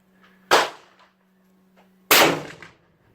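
Two sharp rifle shots from a 30-06 ring out about a second and a half apart, each a loud, close crack that fades in a brief echo, with no talking between them.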